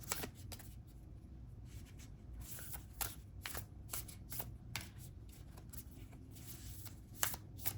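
An oracle card deck is shuffled by hand: a close, steady run of papery riffles and soft flicks with sharper snaps scattered through, and no voices.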